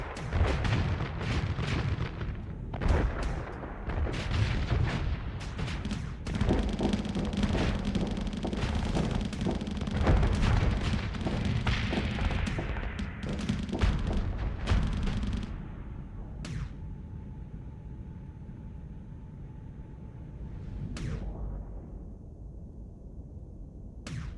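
Plasma batteries and torpedoes fire in the space combat game Starsector, a dense run of booming blasts and crackling bursts that later thins into sparser, quieter hits with a faint lingering hum.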